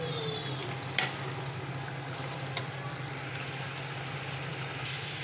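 Masala frying in ghee in a pot while kala chana curry is cooked, a steady low sizzle with two faint clinks of a stirring spoon, no voices.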